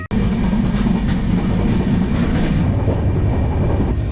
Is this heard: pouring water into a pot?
no